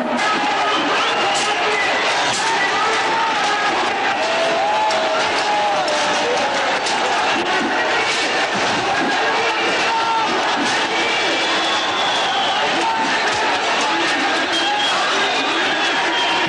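An angry, frenzied crowd at Ayodhya faces police in a dense, continuous roar of many voices with shouting and clatter, loud and steady throughout.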